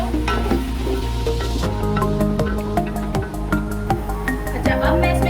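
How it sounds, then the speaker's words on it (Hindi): Yogurt is stirred into beef yakhni pulao in a pot, giving a soft sizzle and the scrape of a spoon against the pot, half buried under loud background music. "अच्छे तरीके से इसे मिक्स करेंगे सारी चीज़ों को।"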